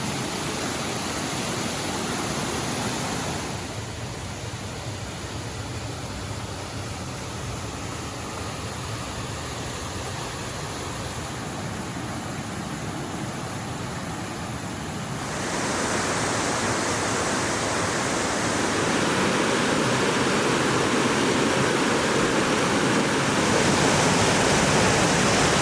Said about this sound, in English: this is my secret little personal waterfall that's on the property I'm staying on